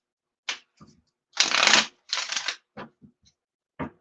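A deck of tarot cards is shuffled in a few quick riffling bursts, close and crisp, with short pauses and light taps between the rustling passes.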